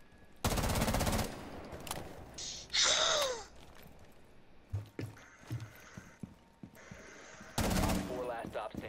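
Rainbow Six Siege gunfire bursts out in loud rapid volleys, one early and one near the end, with scattered clattering game sounds and a brief gasp-like voice in between.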